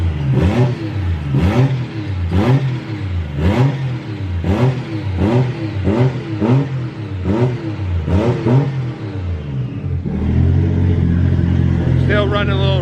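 A Nissan Silvia S15 with a swapped 1JZ-GTE VVT-i engine on its first start-up, running rich with vacuum and exhaust leaks, revved repeatedly in loud rhythmic bursts about a second apart, then settling into a rough steady idle.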